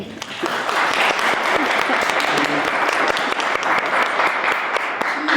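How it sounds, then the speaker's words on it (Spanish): An audience at a university faculty event applauds steadily, a dense wash of clapping hands that stays loud and even from start to finish. "la doctora Mercedes Rodríguez Villafuerte, a la cual les pido un aplauso."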